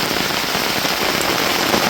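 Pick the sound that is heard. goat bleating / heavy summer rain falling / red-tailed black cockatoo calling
heavy summer rain falling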